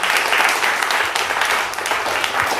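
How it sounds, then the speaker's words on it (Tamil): Steady, dense applause from an audience welcoming guests at a ceremony, loud and continuous throughout with no talk over it. "இவ்விழாவிற்கு வருக என கைத்தட்டல் ஒலிக்க அன்போடு வரவேற்கிறோம்"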